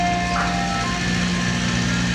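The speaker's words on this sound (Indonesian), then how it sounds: "Mobil es krim." A toy ice cream truck plays its electronic jingle, a steady tinny tune close by with no voices over it.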